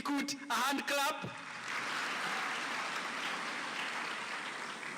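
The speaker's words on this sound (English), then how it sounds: "Can we give DeKUT a hand clap?" A voice speaks briefly, then an audience at a university open day breaks into steady clapping that continues evenly to the end, moderately loud and slightly distant.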